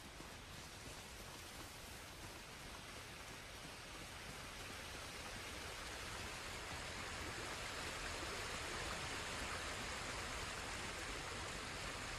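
Steady roar of a waterfall in the Ghost of Tsushima video game, a dense continuous wash of rushing water that holds loud and unbroken throughout with no voices.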